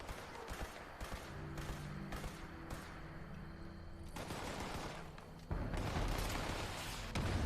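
A laser rifle firing in a video game: rapid bursts of repeated shots, loud and dense, with brief gaps between volleys and a heavier stretch near the end.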